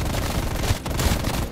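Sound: gunshots in a zombie video game

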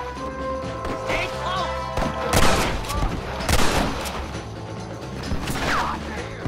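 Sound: gunfire in Red Dead Redemption video game

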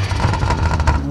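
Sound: car engine revving in video game

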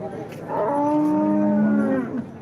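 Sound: cow at a livestock market

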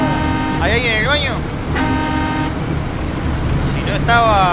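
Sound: truck horn honking in the video game SnowRunner

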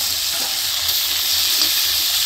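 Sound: papaya and potato lightly frying in a pan

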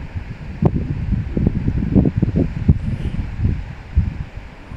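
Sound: strong wind

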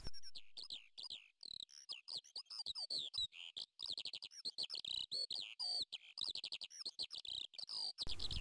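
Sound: kestrels calling near their nest on a rocky cliff

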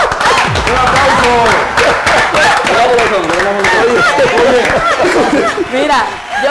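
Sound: studio audience applause

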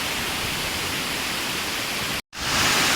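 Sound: rushing water of Pha Sawan waterfall

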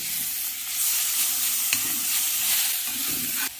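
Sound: spice masala and chopped tomato frying in a pan

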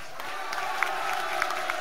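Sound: concert audience applause

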